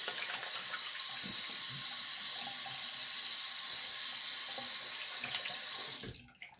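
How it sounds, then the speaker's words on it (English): A water tap runs steadily and fairly loudly into a sink while someone rinses off, with a continuous hiss and splash that stops abruptly near the end. "Let me rinse off real quick."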